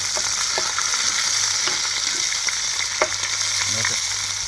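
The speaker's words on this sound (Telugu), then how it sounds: "సో కొంచెం ఫ్రై అవనిద్దాం" Chillies for chicken biryani fry and sizzle steadily in a pan, with a steady close hiss and occasional scraping clinks of a stirring spoon against the metal over four and a half seconds.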